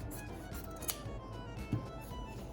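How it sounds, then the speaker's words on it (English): Scissors cutting through stiff, strong spot brocade fabric down the center of a corset pattern piece, giving a low steady rasp with a couple of sharper snips, close and fairly quiet, no talking. "we're going to very carefully take our scissors"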